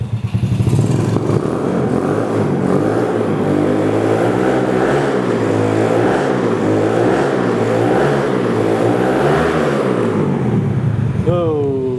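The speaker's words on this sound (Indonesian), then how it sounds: "Sekarang kita coba brayer dikit ya, kita coba gas ya." A custom Yamaha Vega bobber motorcycle revs up and down repeatedly, close and loud, its engine note rising and falling over a steady idle before a brief whine near the end.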